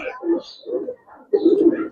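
Teddy pigeons coo in a few rolling, throaty bursts close by, separated by short pauses, with a louder cluster at the end and no talking.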